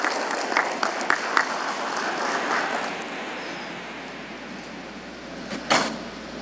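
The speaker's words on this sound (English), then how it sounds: "Give Alexis one more round of applause." Applause at a leadership and service awards ceremony for a student award recipient, moderate clapping that thins out gradually, with a few louder bursts and a clatter near the end.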